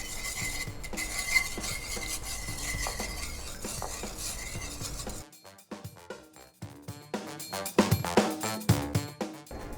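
A utensil stirs eggs into a coffee flan custard mixture, first as a steady soft swishing, then as a run of sharp clinks and scrapes against the bowl, close and fairly quiet.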